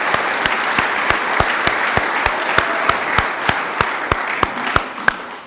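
A crowd at a political event applauds loudly and steadily, the dense clapping punctuated by a regular, emphatic beat of rhythmic claps throughout.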